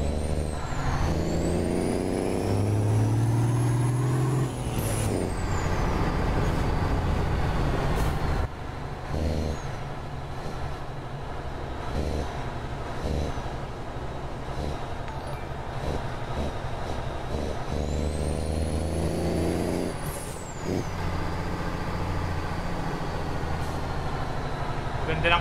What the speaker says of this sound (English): That's an American truck guys.